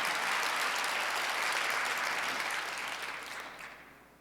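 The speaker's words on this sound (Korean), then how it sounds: "박수 하나 더 주세요" A church congregation at a Sunday worship service breaks into a dense wash of applause, steady and full before tapering off toward the end, with no voices over it.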